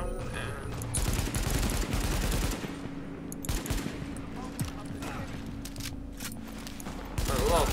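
AK rifle fire in Tom Clancy's The Division, sustained automatic bursts and scattered single shots, loud and close, with a voice briefly heard amid the shooting.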